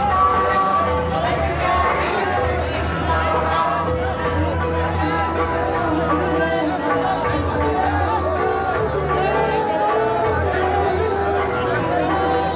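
A large crowd gathered at a funeral and last rites for a revered religious leader in Rewasa village, Rajasthan, fills the scene with a dense, continuous babble of many voices, with scattered shouts rising from the throng throughout.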